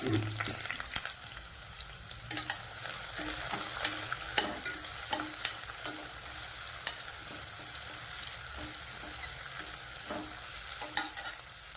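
Green chillies and a bay leaf are sautéed in oil in a pan, a soft continuous sizzle punctuated by regular clinks and scrapes of a stirring spoon, with no talking.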